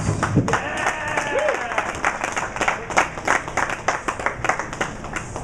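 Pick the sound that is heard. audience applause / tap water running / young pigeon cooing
audience applause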